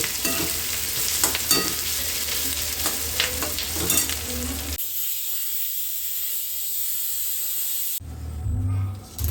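Onion roasting in a pan for misal masala sizzles and crackles steadily up close with stirring scrapes, then the sound shifts to a softer, duller hiss partway through before a brief louder burst near the end; no one speaks.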